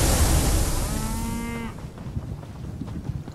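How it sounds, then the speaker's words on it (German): A cow in the video game The Elder Scrolls Online gives one long, loud moo that fades out, followed by quiet ambient game noise. "Brave Kuh."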